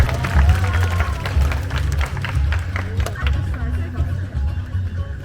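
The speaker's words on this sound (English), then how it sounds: "about a big round of applause for Nanya," An audience at a Night Safari animal show in Singapore applauds a binturong, a burst of clapping and crowd murmur that fades over a few seconds under low, rumbling background noise.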